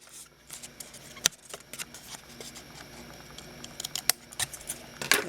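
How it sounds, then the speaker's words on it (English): Scissors trim the two pointed corners off a folded paper pocket for a Halloween mini scrapbook folio, giving a few quiet, sharp close snips among soft paper rustling and handling noises. "basically what I do is I just snip those off"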